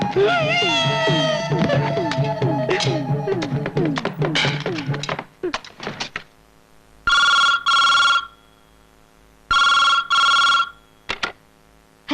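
An old-style telephone in a house rings in a Malayalam film scene. Two loud, clear double-burst rings follow a stretch of voices and a brief thump.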